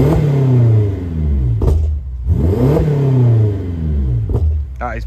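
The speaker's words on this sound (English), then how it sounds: "So we'll give her a little rev for you as well" A 2015 BMW X6M engine revs hard several times while parked, each surge climbing to a loud roar and falling back, close and powerful between blips.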